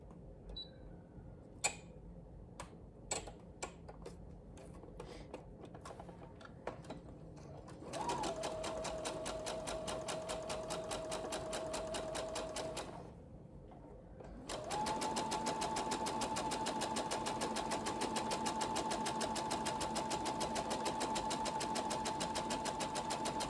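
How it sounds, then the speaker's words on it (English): A sewing machine runs rows of gathering stitches on fabric, starting with a few separate clicks. It then gives two long, steady whirring runs, loud and close, with a short pause between them. "So we'll run our first row of gathering stitches at 1/8 of an inch, and then the second row will be at 5/8 of an inch."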